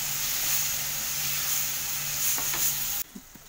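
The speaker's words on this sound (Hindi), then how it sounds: "टमाटर को हम अच्छी तरह से भूनेंगे।" Chopped tomatoes frying with spices for matar dal tadka, a loud, dense sizzle with occasional stirring scrapes that cuts off abruptly near the end to quiet, with a couple of faint knocks.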